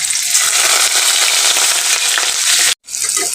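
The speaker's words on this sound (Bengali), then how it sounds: "এখন আমি দিয়ে দেবো পেঁয়াজ কুচি" Chopped onion hitting hot oil in a pan with whole garam masala, a loud dense sizzle that crackles steadily for a few seconds and cuts out briefly near the end before resuming.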